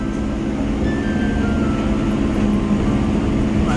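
Riding aboard the Siuri–Sealdah MEMU electric train, a loud, steady interior rumble and rattle of the running carriage fills the whole stretch without any talk.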